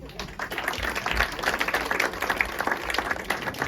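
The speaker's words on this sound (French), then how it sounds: "On peut l'applaudir." Dense, steady applause from a crowd at a Christmas party talent show, a continuous wash of many hands clapping for a few seconds with no speech over it.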